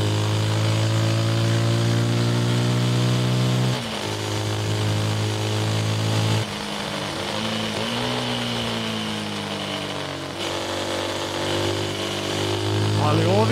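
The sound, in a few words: Rieju 307 Aventura Rally motorcycle engine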